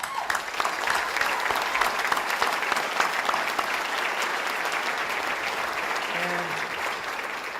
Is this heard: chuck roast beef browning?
no